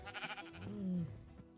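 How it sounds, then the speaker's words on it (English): A Minecraft sheep gives a single wavering bleat, close and clear, lasting under a second amid a faint game background. "Here's the sheep."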